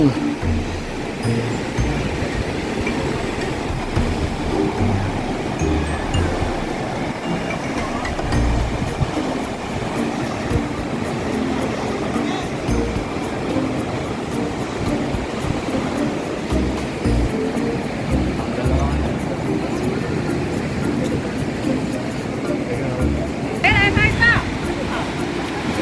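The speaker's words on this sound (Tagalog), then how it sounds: "Lakas ng alon." A steady roar of ocean surf and crashing waves at Haedong Yonggung Temple on the Busan coast, South Korea, loud and continuous, with wind noise and no clear voices.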